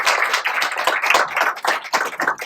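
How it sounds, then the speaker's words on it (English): A small group at a meeting claps steadily for a couple of seconds, a brisk patter of hands with no voices. "round of applause for Uma Naidu."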